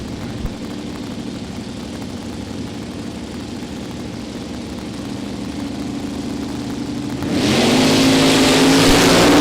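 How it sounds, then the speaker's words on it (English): Drag racing cars at a dragstrip, a Chevelle and an LS-powered Mustang, idle with a steady engine rumble before a sudden loud surge as they launch and rev hard near the end. "Wheels up, launch on the Chevelle"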